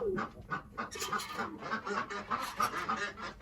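Racing pigeons and their chicks in a loft coo and call in an overlapping, fairly loud chorus, with throaty bursts repeating close by throughout.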